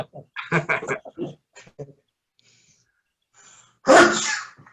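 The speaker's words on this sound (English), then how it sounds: "Achoo. Bless you." Speech fades out, followed by a quiet inhale and then a single loud, explosive sneeze nearby.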